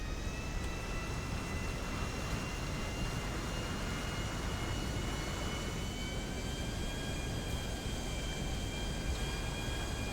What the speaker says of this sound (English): Let's attempt a takeoff on a slightly smallish runway.